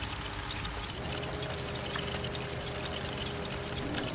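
A LEGO Worlds bulldozer engine idling in a low, steady, quiet rumble that holds without change throughout.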